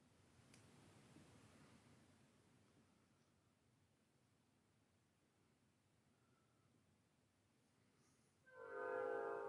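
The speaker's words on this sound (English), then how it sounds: "And the train is coming by" A train rolls past outdoors as a low continuous rumble, and near the end a loud horn blast sounds close by.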